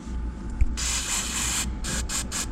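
Bursts of aerosol cleaner spray hissing onto a QJ Motor VPS125 motorcycle engine part, a long continuous spray followed by several short rapid squirts, close and loud over a steady background hum.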